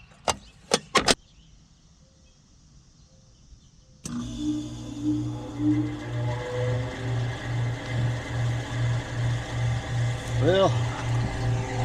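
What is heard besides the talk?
failing HVAC fan motor with worn bearings running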